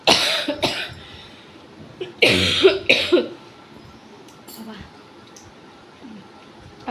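A few sharp coughs burst out close by, spaced a second or so apart, then quieter clicks and faint rustling follow.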